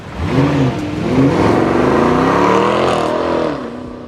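A 500-horsepower V8 minivan engine revs hard up close, its pitch climbing and holding in a loud, throaty roar before easing off.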